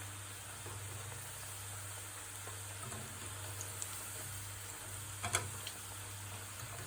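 Cashew pakoda fries in hot oil with a soft, continuous bubbling sizzle over a low hum, with a few light clicks and taps partway through.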